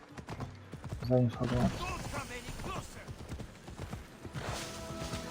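Horse hooves clip-clop in Assassin's Creed Odyssey, a steady run of close hoofbeats with a brief whinny early on. Someone talks briefly over the hoofbeats.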